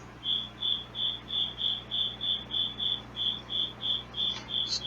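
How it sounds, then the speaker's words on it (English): A single cricket chirps steadily inside a garage, sending out evenly spaced shrill pulses about three per second over a low constant hum, fairly close and alone. "Sorry about that cricket."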